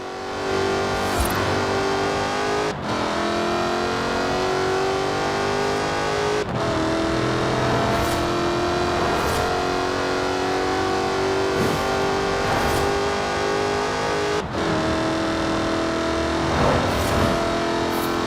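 A Jaguar Project 7, the Le Mans-celebrating E-Type successor, driven in Forza Horizon 4, its engine droning loud and steady under music-like tones, with a few sharp breaks where the revs shift.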